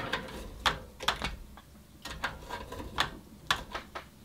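Screws are driven into a PC power supply inside a Thermaltake The Tower 300 case, giving a series of close, quiet ratcheting clicks in short irregular bursts with pauses between them.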